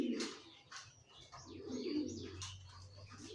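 Racing pigeons coo in repeated low, throaty phrases, close and fairly loud, with faint chirps and a steady low hum underneath.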